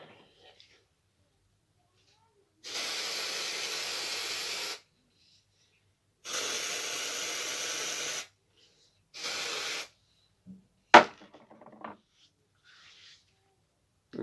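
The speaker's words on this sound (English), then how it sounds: "Right, deodorant." Deodorant sprayed from an aerosol can in three bursts, two long hissing blasts and a shorter one, close by in an otherwise quiet room, followed by a few small handling knocks.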